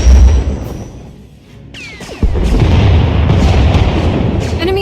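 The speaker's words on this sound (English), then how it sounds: "Enemy is firing. Turbo lasers, missiles, and what looks like transport pods." Heavy booming blasts and bursts of starship weapon fire from a Thranta-class warship shooting turbo lasers and missiles in Star Wars: The Old Republic, loud and continuous, with a sharp hit near the middle.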